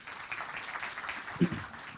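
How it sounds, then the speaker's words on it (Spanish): Faint audience applause after a talk at a medical conference, a soft patter of clapping heard from a distance, steady and low with one brief louder knock. "fuerte aplauso para Luis"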